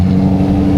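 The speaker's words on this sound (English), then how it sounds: "Oh, the sound of the V8." A V8 car engine with failing brakes revs in a short, loud, close burst, a deep steady rumble with no talk over it.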